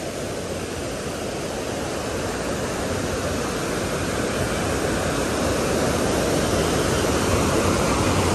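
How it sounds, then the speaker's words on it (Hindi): Beas river water rushing steadily in Old Manali, Himachal Pradesh, a loud, continuous broadband roar of flowing water and lapping waves with no talking over it. "सिर्फ पानी की आवाज़, लहरों की आवाज़"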